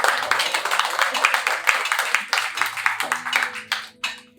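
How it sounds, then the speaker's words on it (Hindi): A poetry performance audience claps in a brisk, sustained burst of applause that thins out toward the end, with a voice speaking over it. "ताली बजाओ यार।"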